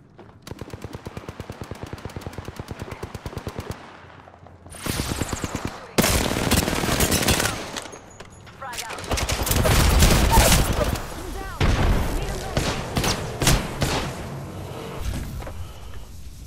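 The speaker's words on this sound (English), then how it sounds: "Taking fire." Gunfire in a video game, with rapid machine-gun bursts up close, then a string of loud shots and volleys with short pauses between them. Voices talk briefly between the bursts.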